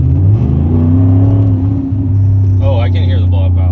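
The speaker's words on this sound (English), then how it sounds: "This is the audio inside the car with the windows up." Inside a Maserati GranTurismo turbo with the windows up and no radio, a steady low engine drone hums evenly throughout, with a person beginning to talk over it near the end.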